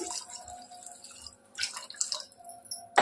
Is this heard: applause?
no